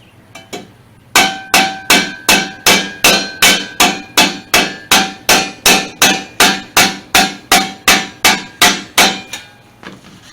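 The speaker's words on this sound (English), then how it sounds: "taking the round part of the hammer and kind of coming back this way" A hammer's rounded face strikes a 1976 LTD's metal wheel cover to tap a crease back in, a steady, evenly spaced series of about twenty sharp, ringing taps, loud and close, after a few lighter initial knocks.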